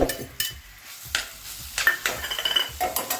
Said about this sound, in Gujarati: હવે આ ઘી ગરમ થઈ ગયું છે અને આપણે એમાં દૂધી ખમણેલી એમાં નાખી